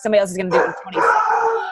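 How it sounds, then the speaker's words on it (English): A pet dog barks and howls in a few drawn-out bursts close by, mixed in with a person talking over it. "That's my dog."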